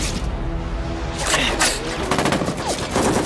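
Gunfire in a sniper action film scene, a loud dense burst of shots with booming echoes packed into a few seconds over a busy movie soundtrack.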